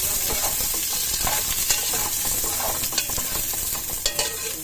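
Garlic and onion sauté in a pan for pork nilaga with cabbage, a loud, continuous sizzle with repeated scraping and tapping of a spatula as the pan is stirred.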